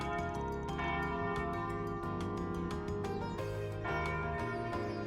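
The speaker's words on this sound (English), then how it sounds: "And there go the church bells even." Church bells ring out for a cat wedding in the video game Trails Beyond the Horizon, loud repeated peals over a bright, dense musical bed, continuous throughout.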